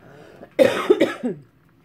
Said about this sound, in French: Attendez, je vais tousser, pardon.